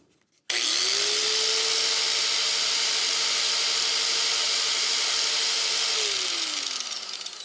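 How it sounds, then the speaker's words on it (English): A cheap 5 amp Harbor Freight angle grinder starts abruptly and runs at a loud, steady high-pitched whine close by, then winds down near the end. "Here is a cheap 5 amp angle grinder that I got from Harbor Freight."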